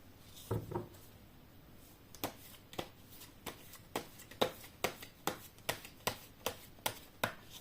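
Tarot cards being shuffled by hand, a rapid riffling burst at first followed by a steady run of crisp, evenly spaced card snaps and slaps, close and fairly quiet with no talking.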